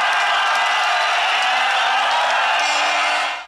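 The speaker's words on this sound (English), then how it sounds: "amidst cheers from the crowd" A large crowd at a stadium announcement about renaming Talanta Stadium cheers, a steady loud roar of voices that cuts off abruptly at the end.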